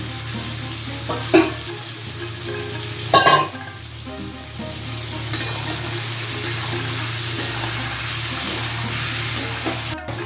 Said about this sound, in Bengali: এবার আমি চিকেনটাকে দিচ্ছি। এটাকে ভালো করে ভেজে তারপরে আমি মশলাগুলো দিয়ে দেবো একে একে